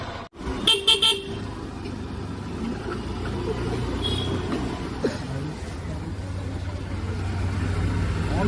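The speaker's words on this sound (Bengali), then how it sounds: "আমিও হর্ন দিয়েছি" A horn honks while riding a Suzuki Burgman scooter on a road, a few short toots near the start followed by a steady engine and traffic rumble, with faint voices in the background.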